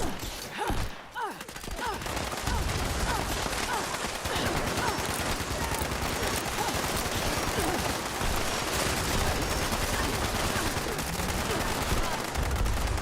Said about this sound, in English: someone is actually standing behind me shooting me in the back